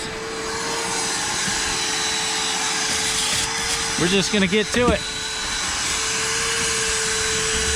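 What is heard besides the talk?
vacuum cleaner running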